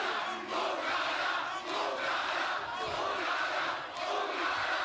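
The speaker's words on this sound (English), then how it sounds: "you heard the crowd chanting it." A large wrestling arena crowd chants loudly and continuously in a steady rhythmic pattern during a tag team match, filling the whole space without a break.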